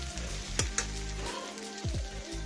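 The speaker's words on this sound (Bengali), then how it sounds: "তো এখানে আমি রসুনটা একটু ভেজে নেবো লাল লাল করে।" Chopped garlic sizzles steadily in a hot pan for chilli chicken, a close, continuous hiss broken by a couple of stirring scrapes, with no talking.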